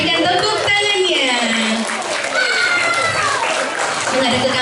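Applause breaks out for a prize winner at a children's Ramadan award night in a mosque, with clapping spread through the crowd beneath an announcer's voice that carries over it throughout.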